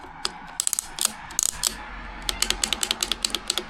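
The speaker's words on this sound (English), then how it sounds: "You can move it and shift a whole lot of gears like a Shimano lever" A TRP EVO 12 bicycle shifter lever ratchets through several gears in quick succession, giving crisp, close mechanical clicks in irregular bursts with no talking.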